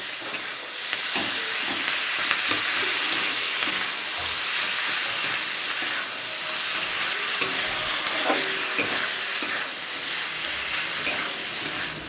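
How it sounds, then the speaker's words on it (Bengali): Ginger, cumin, dry chilli and mustard masala with salt and turmeric stir-fried in a hot pan, a steady loud sizzle with scraping stirs running throughout, no voices. "দিয়ে মশলাটা ভালো করে কষবো"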